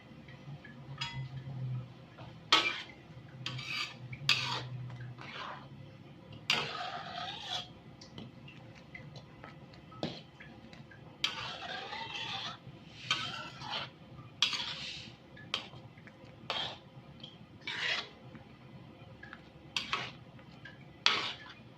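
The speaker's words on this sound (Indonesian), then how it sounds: "sambil kita aduk-aduk juga" A utensil scrapes and clinks around a pot of boiling homemade tomato sauce in irregular bursts of stirring, fairly quiet with no talking.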